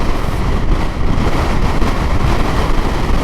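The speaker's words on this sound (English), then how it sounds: "Whoa, windy. It is windy, windy, windy." Strong wind in Chile roars and buffets the microphone continuously, a loud, rumbling rush with no pauses.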